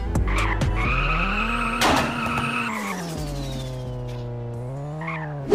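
A kart drifts in the mobile racing game Kart Rider Drift: a loud, sustained tire skid squeals over a droning engine whose pitch rises and falls, then a final short skid near the end.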